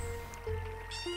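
Cats in the online game Spiral Knights let out several clear, tonal meows in quick succession, with a longer rising yowl near the end over a low, steady game background hum.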